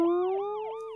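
An ambulance siren wails in a clear repeating up-and-down sweep, steady and fairly loud throughout with no voices.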